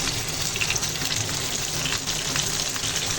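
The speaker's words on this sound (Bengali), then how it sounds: "ছোটো কড়া ইলিশ মাছগুলো ভেজে নেব" Hilsa fish fries in a small wok with a dense, loud, unbroken sizzle that holds steady throughout, with no voices.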